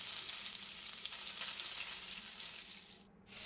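Fish curry simmering in a pot while being stirred, a continuous soft hiss and bubbling with faint spoon scrapes, briefly dropping near the end.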